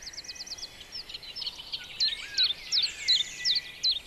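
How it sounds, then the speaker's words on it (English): A chiffchaff singing in woodland, a thin high string of repeated chirping notes that grows louder and more distinct toward the end, heard alone without talk. "Another small singer, the chiff-chaff."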